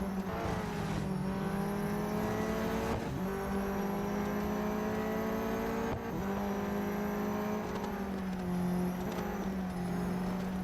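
A race car engine in the video game Real Racing 3 drones and revs continuously, with the pitch climbing through gears and dropping sharply at each shift, about every three seconds, and no talk.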